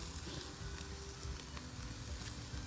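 Wagyu strip steaks searing on a Weber kettle grill in sub-freezing winter weather give a soft, steady sizzle and crackle, faint and continuous with small pops scattered throughout.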